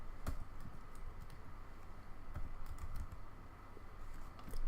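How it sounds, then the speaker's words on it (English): Steady typing on a computer keyboard while entering a command in a terminal, a run of soft, even key clicks with a few louder taps, heard alone against a faint background hiss. "on the terminal we need to type in the command Ansible playbook"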